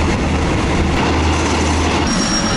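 A passenger train rolls along its rails on an eight-hour trip toward Nong Khai station on the Thai–Lao border, a loud, steady rumble and rattle heard from inside with a low hum and a brief high squeal near the end, no voices.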